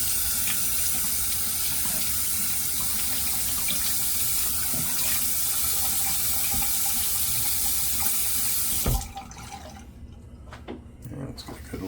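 Cold tap water runs steadily into a bathroom sink to wet a brush, a close, continuous splashing hiss for about nine seconds before the tap is shut off and the sound drops to quiet room tone.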